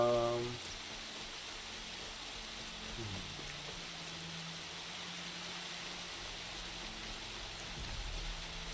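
Steady, even rain hiss fills the scene in the Horizon Zero Dawn video game, a soft continuous wash with no distinct drops, holding at a moderate level throughout.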